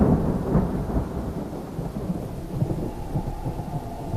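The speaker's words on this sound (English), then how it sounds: "running around in the rain at this time" Rain and thunder in an animated fantasy scene, with a steady wash of rainfall and low rumbling thunder running throughout, loud and continuous with no voices.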